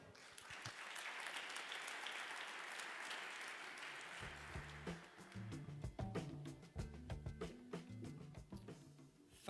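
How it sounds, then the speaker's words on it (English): Audience applause at a FinTech startup demo day in Melbourne, a sustained burst of clapping from a crowd that holds steady and then thins into scattered, uneven claps toward the end. "please give a warm round of applause from Deloitte, Tim Davis, Director,"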